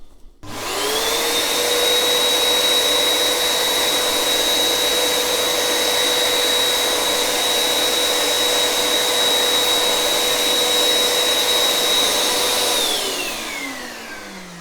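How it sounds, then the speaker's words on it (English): A vacuum motor whirs up to a steady, loud high-pitched whine while vacuuming moisture off a wet vinyl record, holds for several seconds, then winds down. "once again we're going to vacuum the record"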